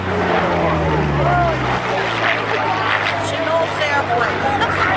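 A P-40 Warhawk warbird flying at the 2008 Jones Beach airshow, its loud engine drone dropping in pitch as it passes, with voices talking over it.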